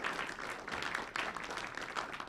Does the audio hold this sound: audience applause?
yes